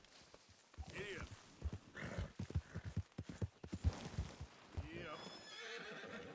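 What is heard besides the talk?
horse trotting and neighing in Red Dead Redemption 2 video game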